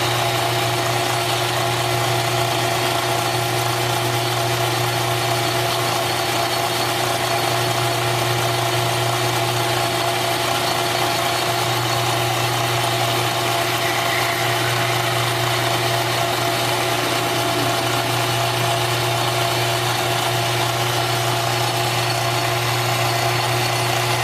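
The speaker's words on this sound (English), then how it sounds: "I'm getting ready to do the facing cut on this" A steady, continuous machining drone with a constant hum and faint scraping texture, a metal lathe making a facing cut, running unchanged throughout.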